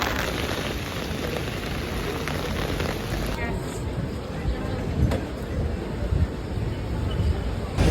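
Steady rain patters and hisses across the whole stretch in London, a dense even wash of drops with no voices standing out.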